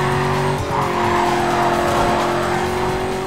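A Corvette in the racing game NFS Carbon roars loud and close at full throttle, its engine tone dipping then climbing again while tires squeal through a corner.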